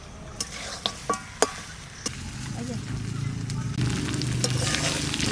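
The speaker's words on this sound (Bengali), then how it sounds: "আমার মাংস প্রায় কষানো হয়ে গেছে" Young goat meat sautés in a pan with a low steady sizzle, punctuated early by a few sharp scraping stir clicks, the frying growing slightly fuller toward the end.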